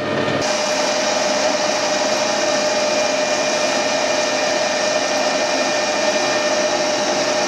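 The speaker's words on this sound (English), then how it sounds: "I'm going to turn it down to 16mm round" A lathe turns a steel tailstock adjuster bolt down to 16 mm round, producing a loud, steady, continuous whirring hum from start to finish with no talk.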